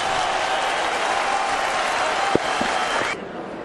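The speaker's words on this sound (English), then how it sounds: "And the crowd slowly getting up, applauding and saluting two great warriors." A boxing arena crowd applauds and cheers at the end of a fight, a loud sustained roar of clapping and crowd noise that drops off sharply near the end, with a couple of brief knocks.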